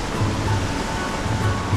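Water flowing into a hot spring pool makes a steady, continuous rushing noise, close and fairly loud, with no break and no voices.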